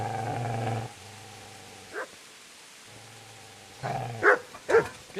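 A dog barks and growls in Kingdom Come: Deliverance, a few sharp close barks near the end after stretches of low droning background.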